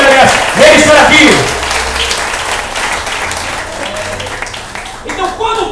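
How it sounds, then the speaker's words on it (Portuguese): Loud applause from a church congregation fills a worship service, strong clapping with crowd noise and a voice speaking over it, tapering slightly before swelling again. "Dê uma salva de palmas bem forte para Jesus."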